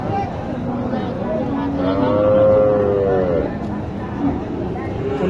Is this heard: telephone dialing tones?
no